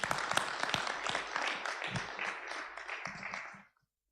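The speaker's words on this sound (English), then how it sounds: "Let's just give him another round of applause" Applause from a conference audience on e-mobility and charging infrastructure, dense steady clapping that fades and cuts to silence near the end.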